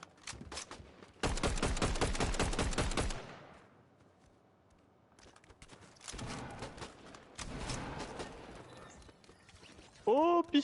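Rapid bursts of gunfire from a legendary titanic pistol in BedWars, a dense stuttering volley of shots lasting a couple of seconds, then later further clusters of firing and game effects, with a voice speaking faintly between.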